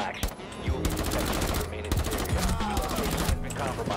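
Rapid automatic gunfire in Rainbow Six Siege, dense bursts of shots filling the space almost continuously, loud and close with brief gaps between volleys.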